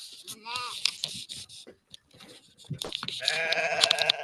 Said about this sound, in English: We're back with the sheep.